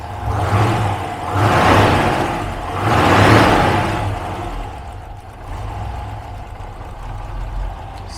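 A V8 car engine idling on a cold winter warm-up with a steady low rumble, swelling in a few slow waves of revs before settling back to an even idle.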